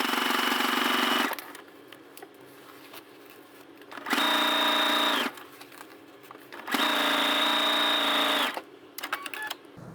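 Sewing machine stitching a curtain hem for a travel trailer, running in three sustained close bursts with quiet pauses and small handling clicks between them, no talking.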